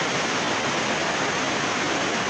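Umbrella waterfall with a huge volume of falling water, a dense, steady, loud roaring rush that fills the whole clip without pause or voices.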